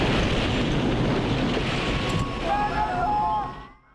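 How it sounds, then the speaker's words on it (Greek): During the 1979 Fastnet storm, a 12-metre ocean wave strikes the side of a sailing boat in the dark: a loud, roaring wash of water and wind that surges, then quickly fades away. "Ένα κύμα 12 μέτρων έρχεται μέσα στο σκοτάδι και χτυπάει το σκάφος στα πλάγια."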